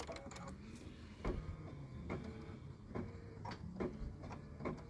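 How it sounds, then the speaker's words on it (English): A sewing machine runs a decorative cross-chain candlewicking stitch on pink fabric, giving a fast mechanical whir broken by regular louder clunks about every second, moderately near. "now it's going to do the decorative stitch on the pink fabric"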